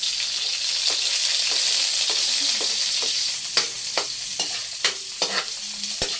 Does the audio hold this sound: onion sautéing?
yes